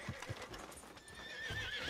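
A horse in Red Dead Redemption 2 gives a shrill whinny amid a few sharp clip-clopping hoofbeats on the ground, fairly faint and close, with a rising neigh toward the end.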